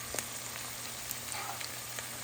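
Ginger, garlic and potato fry with onions in a pan for an okra and shrimp curry, giving a faint, steady low sizzle with scattered soft crackles and pops throughout.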